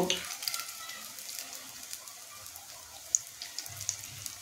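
Kulekhara greens coated in gram flour batter, frying as pakoras in hot oil, a quiet, even crackling sizzle with small pops scattered through and no talk.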